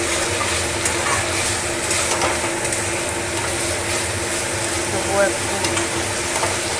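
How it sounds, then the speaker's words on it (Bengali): Meat kosha fries and gets stirred in a pan, a constant loud sizzle with scraping stirs running throughout, while a person speaks briefly over it. "এই যে মাংসটা কষা, নতুনভাবে রান্না করছি"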